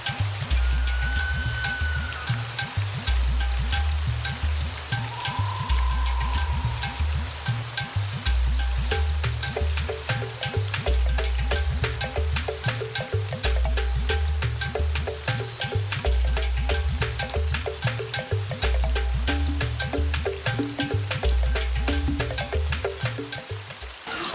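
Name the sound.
rain falling in Madagascar forest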